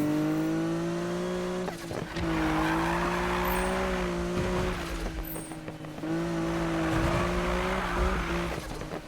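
A Nissan Skyline R34's engine roars steadily in the video game Need for Speed (2015), its pitch rising and falling with gear changes, while tires squeal through the turns.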